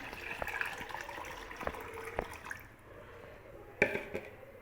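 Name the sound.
water being poured and mixed into liquid fertilizer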